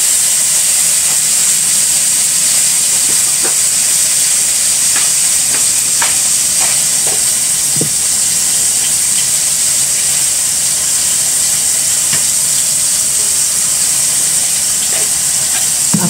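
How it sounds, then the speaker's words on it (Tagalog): Eggs with tomato fry in a pan, giving a steady, loud hiss with scattered small pops and crackles throughout, heard up close with no talking. "So, kamatis lang ilagay ko sa itlog."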